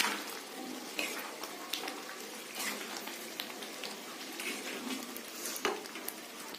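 Paneer cubes stirred into spinach curry with a spatula, giving soft, scattered scraping and wet sizzling taps close by, with the spatula striking the pan at intervals and no talking.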